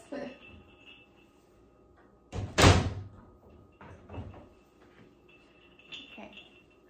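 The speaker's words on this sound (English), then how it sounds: "I'm gonna close the cabinet door. You can hear it. It's bells, yes." A cabinet door swings shut with one loud, close knock midway, followed by faint bell-like tinkles from the decorative bells on it, during quiet Christmas tree decorating at home.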